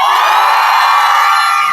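A crowd at a candlelight impeachment rally outside the National Assembly lets out a brief burst of cheering and shouting. The voices are loud and sustained for under two seconds.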